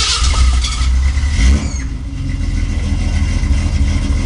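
A 1974 Datsun 260Z with a leaking exhaust is started and settles into a loud, steady, close idle with a rough mechanical roar, a brief surge near the start before it evens out, and no talking.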